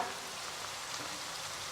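Vegetables sizzling in a pan while being warmed for a sardine bowl, a steady, even frying hiss close by with no one talking.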